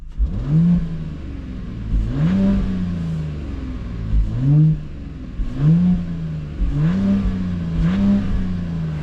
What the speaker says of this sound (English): let me put the windows down and listen to the sound. 3-liter 6-cylinder.